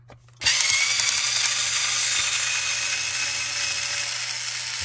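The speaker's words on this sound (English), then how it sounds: "I forgot that I had this little screw gun. This works pretty good." A small cordless screw gun starts abruptly and runs steadily, a loud close whir while loosening the bridge screws on a Hannah Montana Telecaster-style electric guitar during dismantling.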